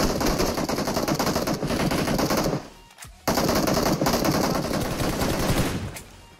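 Rapid automatic gunfire from a video game shooter roars loud and nearly continuous, with sustained bursts broken by a brief pause midway before the shooting resumes.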